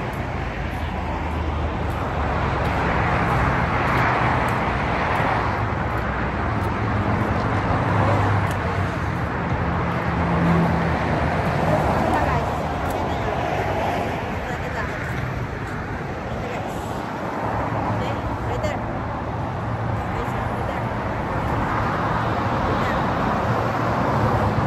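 Continuous road traffic rumbles near a highway bound for San Diego, a dense steady wash of car and bus engine and tyre noise with wind buffeting, holding at a loud level throughout.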